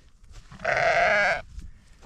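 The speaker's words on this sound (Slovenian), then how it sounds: "Evo, ja, takle tudi ovce srečaš." A sheep on a mountain trail in the Kamnik-Savinja Alps of Slovenia gives one clear, wavering bleat of under a second, close by, over faint outdoor background.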